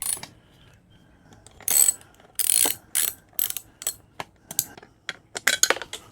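Ratchet tightening airbox bolts on a Honda CB125F motorcycle, close-up clicking pawl strokes in short irregular bursts with brief pauses between them.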